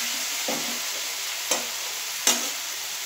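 Tilapia fish masala is sautéed in a pan, giving a steady, loud sizzle with three soft scraping stirs spaced about a second apart.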